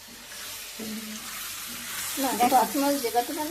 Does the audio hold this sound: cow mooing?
no